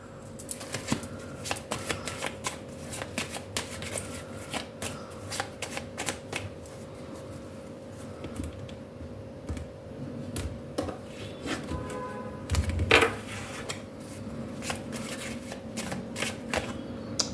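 Tarot and oracle cards are handled and shuffled close up, producing a continuous run of quick riffling flutters and soft card slaps with a few louder clacks.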